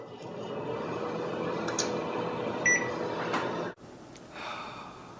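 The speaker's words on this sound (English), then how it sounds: "you pop that bad boy in the microwave like so. And you turn it on for about 1:30." A microwave oven heats a rice-filled sock, giving a steady low hum that cuts off abruptly partway through, with faint clicks and beeps around it.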